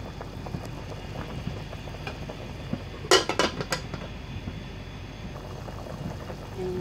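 Ginataang manok, chicken in coconut milk with turmeric, bubbles steadily in a pot on the stove, a soft continuous simmer broken midway by a sharp clatter of a lid or utensils against metal.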